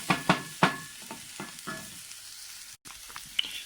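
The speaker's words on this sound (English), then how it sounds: "it's now I'm stirring with a wooden spoon, making sure it will not burn" A wooden spoon scrapes and stirs stuffed pepper dolmeh filling in a pan, giving several sharp knocks early on, then softer sweeps over a quiet sizzle.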